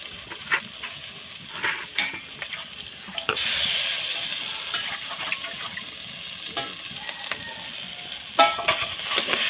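Karela seeds stirred into a pan with lightly fried mustard paste, giving a close crackling sizzle with scattered scraping stirs and a louder hissing burst partway through.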